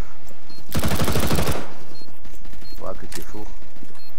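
A loud, rapid burst of MP7 submachine gun fire from Counter-Strike: Global Offensive, lasting under a second, with fainter game sounds after it and players' voices around it.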